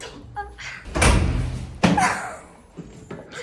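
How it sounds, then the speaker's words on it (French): A door in a Paris Airbnb apartment is pushed shut with a solid thud, followed by a second bang as it settles, with faint voices and rustling nearby. "Ferme la porte."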